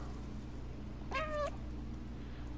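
A single short cat meow in the video game Stray, rising and falling over a low steady ambient hum, alone without talk.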